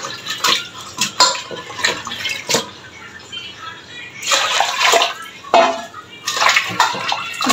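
Plant leaves being washed by hand in a basin of water, with repeated sloshing and splashing bursts close by, pausing between rinses and some faint dripping.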